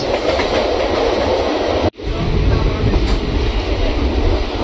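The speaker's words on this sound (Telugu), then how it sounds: "స్టేషన్లోకి మెల్లిగా ట్రాక్ చేంజ్ కూడా అయిపోతుంది" Loud, continuous rattling of a train rolling over rails as it changes tracks onto a station loop line, with rhythmic clattering and a brief dropout midway, no voices.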